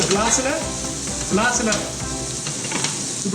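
Green chillies toast in a hot pan with a loud, close, continuous sizzle and crackle, with light stirring noises mixed in as the hiss swells and eases slightly.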